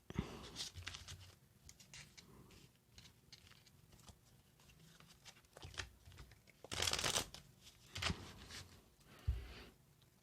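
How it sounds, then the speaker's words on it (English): Tarot cards shuffled by hand, a busy run of close riffling and flicking, soft at first, then louder bursts toward the end, with no one talking over it. "Another shuffle they request."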